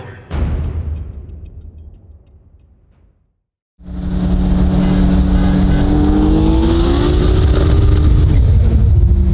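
Honda K24-swapped BMW E30 racing a Corvette Z06: a loud engine rev that fades, a brief silence, then close, sustained hard acceleration with the engine note climbing steadily through the gears.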